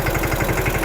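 A tractor engine runs hauling a trailer loaded with about 30 bags of cement, a loud, close, steady throbbing with a regular low pulse and no voices.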